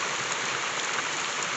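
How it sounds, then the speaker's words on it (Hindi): Heavy rain pouring down in a hill village, a dense, steady hiss of drops on surfaces that stays loud and even throughout with no voices. "बहुत तेज़ बारिश लगी हुई है"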